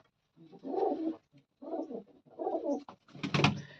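Close, soft pigeon coos in a few rounded phrases separated by short pauses, with a quiet background.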